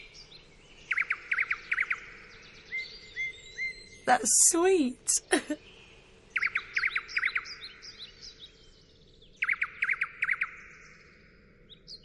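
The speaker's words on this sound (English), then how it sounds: "The male bird calls and then the female answers." Nightingales trade calls, with bursts of rapid chirping coming in three separate rounds at moderate distance. A person speaks briefly in the middle, between the bird phrases.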